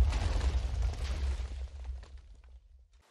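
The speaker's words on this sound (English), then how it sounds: "Bin Being is showing off his data pack that adds artillery strikes into the game of Minecraft" An artillery strike explosion from a Minecraft data pack, one deep rumbling blast that rolls on and slowly fades to silence within a few seconds.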